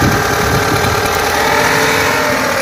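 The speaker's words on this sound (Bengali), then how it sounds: "গাড়িটি হচ্ছে ভিভিটিআই ইঞ্জিন" A 2004 Toyota Hiace Super GL van with a VVT-i engine runs close by, a loud, continuous engine rumble with a steady, even drone and no voices.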